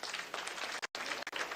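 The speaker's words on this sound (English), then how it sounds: "Please clap for her again." Applause from an audience at a Nigerian ceremony honoring a graduate, a busy patter of clapping that briefly drops out twice in quick cuts before resuming.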